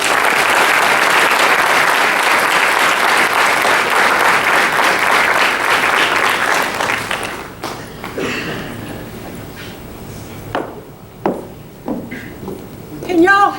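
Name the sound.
audience applause welcoming a speaker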